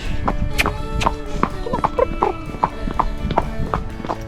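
Arab mare Naz walking on a lead through a gate, her hooves clip-clopping in a steady, close rhythm of roughly ten clear strikes, with faint background sounds between.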